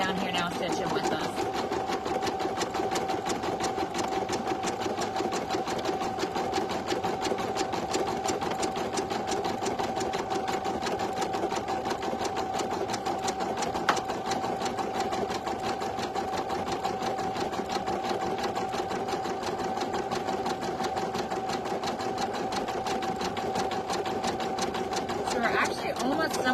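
An embroidery machine stitching a design in the hoop runs steadily and continuously throughout, a close mechanical whirring hum with a rapid needle rhythm and no pauses.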